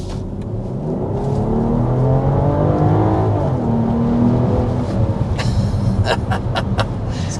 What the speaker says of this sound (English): we need to go ahead and start with a hard acceleration to show you what this powertrain is all about